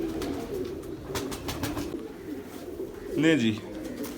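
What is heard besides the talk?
pigeons cooing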